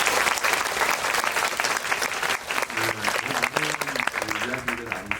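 Sustained audience applause fills a Korean film event hall at a talk with director Lee Jungjae and actor Jung Woosung, a dense steady clapping wash with musical tones rising beneath it in the latter half.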